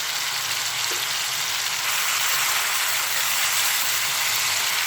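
Onion paste frying in hot oil for an Echor chingri dish, a steady close hiss and sizzle with a constant level that runs unbroken and alone for the full length.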